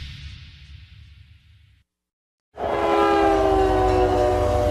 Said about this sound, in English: This is what it sounds like inside the boxcar.